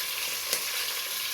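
Green chillies frying in oil for tomato rice bath: a steady, dense sizzle runs throughout with one brief louder crackle midway, no voices.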